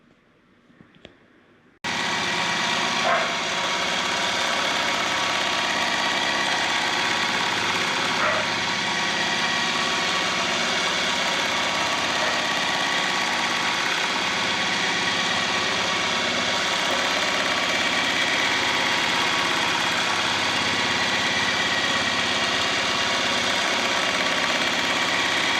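A Voyager longarm quilting machine stitches angled zigzags across a quilt, starting after a brief quiet moment into a loud, continuous mechanical whir with a steady motor drone and rapid needle rhythm, no talking.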